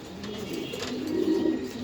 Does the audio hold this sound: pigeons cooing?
yes